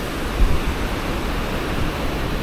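Strong wind sweeps across a beach at Jurerê in Florianópolis on a humid day with rain offshore, a dense, continuous roar buffeting close to the microphone with a low rumble and no voices.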